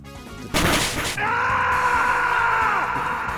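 A scream sound effect from a Pokémon video game opens with a sharp noisy burst, then a loud, sustained wavering cry that holds for about two seconds before trailing off.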